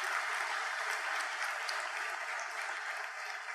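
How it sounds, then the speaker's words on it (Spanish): Applause at a graduation ceremony for banking and financial operations technicians, a steady wash of many hands clapping at moderate volume, continuous and even for the whole stretch with no voices. "regalémosle un fuerte aplauso a esos técnicos profesionales en operaciones bancarias y financieras"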